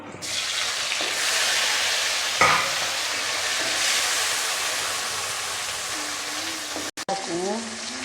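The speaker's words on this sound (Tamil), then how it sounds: "இப்போ என்ன செய்ய போகிறோன்னா தக்காளியை கொட்ட போகிறோம்" Tomatoes tipped into a pan and stir-fried while making chicken curry, a steady loud sizzle throughout with a brief clatter midway and scraping stirs near the end.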